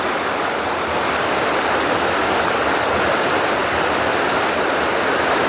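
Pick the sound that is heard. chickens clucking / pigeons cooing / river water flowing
river water flowing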